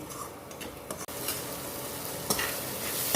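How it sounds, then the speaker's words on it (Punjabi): Spices and pea paste sizzle and fry in hot oil while being stirred steadily, with scraping stirs and occasional sharper spatters, close and continuous for a spiced dry arbi (taro root) dish. "ਇਹਨਾਂ ਮਸਾਲਿਆਂ ਨੂੰ ਚੰਗੀ ਤਰ੍ਹਾਂ ਭੁੰਨ ਲੈਨੇ ਆ"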